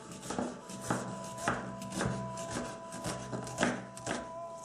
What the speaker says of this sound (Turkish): Soğanlarımızı yarım daire şeklinde doğruyoruz.